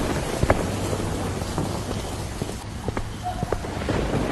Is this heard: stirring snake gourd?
no